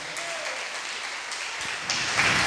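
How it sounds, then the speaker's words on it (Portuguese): A church congregation applauding, a moderately loud, continuous wash of clapping that swells slightly toward the end, with no talk over it. "Dê um aplauso a Jesus bem forte."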